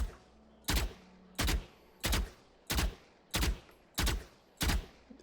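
Rifle fire in Valorant comes in seven short, evenly spaced gunshot bursts, sharp and loud against a quiet background, with no talking.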